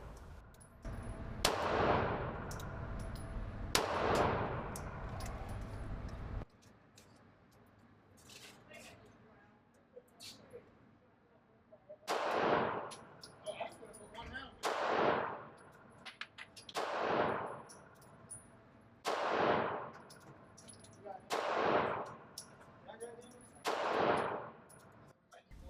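Beretta M1934 handgun firing at an outdoor range: two close sharp shots, a quiet pause, then a steady run of six more loud cracks spaced a couple of seconds apart, each with a short ringing decay.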